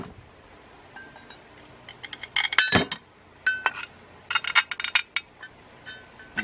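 Glass mosaic tiles being cut and snapped by hand, giving bright clinks, crisp cracks and tinkling shards in irregular clusters, close up over a quiet background.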